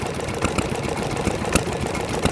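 An old Yanmar K2 diesel engine, a hard-starting restored stationary engine at an engine show, chugs close by at idle, with a steady, knocking beat that throbs throughout.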